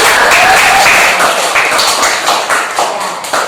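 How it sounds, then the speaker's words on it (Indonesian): Schoolchildren give loud, lively applause welcoming a guest speaker in a classroom, close, continuous, dense clapping that tapers slightly near the end. "Kita sambut narasumber kita dengan tepuk tangan yang meriah."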